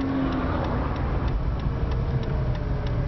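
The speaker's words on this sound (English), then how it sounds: "Today we're going to take this 2006 Mazda RX-8 on a test drive" A 2006 Mazda RX-8 on a test drive gives a steady, muffled cabin drone of engine and road noise at a constant level, with no talking heard.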